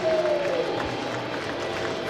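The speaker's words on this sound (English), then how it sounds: "To a small applause" Small crowd applauding as the away team walks out for a London Broncos versus North Wales Crusaders rugby league match, a thin, distant patter of clapping blended with low stadium murmur and a brief whistle-like tone near the start.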